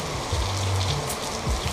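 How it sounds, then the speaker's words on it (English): Steady outdoor rain falls as a dense, even hiss of drops on surfaces, constant and moderately close for the whole stretch with no voices. "we're getting rain today"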